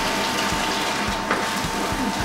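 Running water splashes steadily while a can is rinsed out, with a few low knocks and clatters from handling the can.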